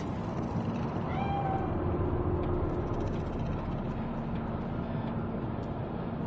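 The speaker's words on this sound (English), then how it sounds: "The cat." A cat in the video game Cyberpunk 2077 meows a few times, its short rising cries set against a steady low city hum and rumble that runs throughout.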